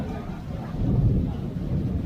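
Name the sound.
rain and thunder outdoors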